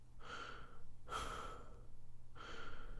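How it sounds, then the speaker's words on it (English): Slow, heavy human breathing in a foggy, silent grove, three drawn-out breaths about a second apart, close and hushed with a low rumble underneath. "all that remained was the sound of my own breathing"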